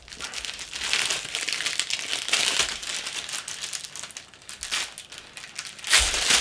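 Plastic resealable bags from a Takom 1/35 T-55 model kit crinkle and rustle steadily at close range, with a sharper burst of crumpling near the end.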